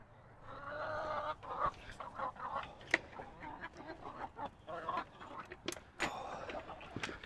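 Hungry chickens clucking on a farm near chicken tractors, a steady stream of close clucks and short calls with scattered louder squawks throughout.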